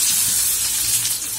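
Chopped onion fries in hot oil in a kadai with a dense, steady hiss and crackle throughout, close and loud, with no talking.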